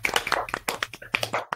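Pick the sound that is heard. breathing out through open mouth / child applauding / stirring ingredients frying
child applauding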